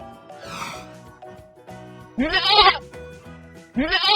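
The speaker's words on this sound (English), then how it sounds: "goat," A farm goat bleats in two loud, wavering cries, each rising and then trailing off, with a fainter bleat near the start and quiet gaps between the calls.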